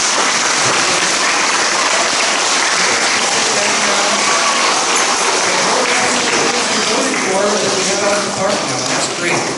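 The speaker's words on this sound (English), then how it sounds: "Let's give them another round of applause for their help." A school crowd at a playground dedication claps steadily for a group of children, a thick, continuous wash of applause lasting the whole stretch with faint voices mixed underneath.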